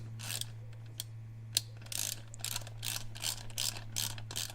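A ratchet wrench tightening the bolts of an off-road winch mount plate on a differential mount, giving bursts of rapid clicking at close range, with a few separate knocks between the bursts and no talk.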